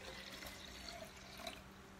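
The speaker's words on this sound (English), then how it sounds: "you pour the water kefir that you made back in" Homemade water kefir is poured back into a jar, a faint, continuous liquid trickle and splash with a couple of small drips, close and quiet with no talk.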